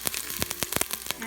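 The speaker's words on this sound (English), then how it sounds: "Then we're going to saute the white part of the green onion for about 30 seconds until they start to smell nice." Green onion whites sauté in the hot inner pot of an Instant Pot, giving a close, dense crackling sizzle with rapid irregular pops throughout.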